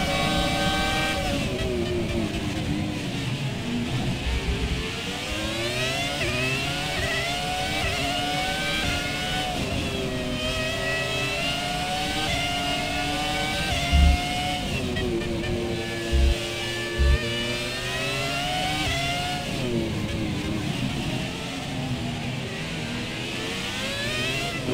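A 2002 Ferrari Formula 1 car in F1 2017 at night in Monaco screams through the gears, its high-pitched engine note rising and falling steadily throughout, with a few brief thumps along the way.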